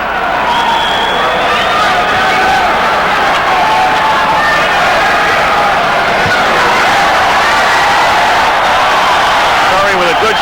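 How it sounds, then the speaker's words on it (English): Boxing arena crowd in Atlantic City roaring and reacting steadily to punches thrown by Donald Curry against Elio Diaz, a dense continuous wash of cheering with a commentator talking over it. "The crowd, of course, responds to everything Curry throws"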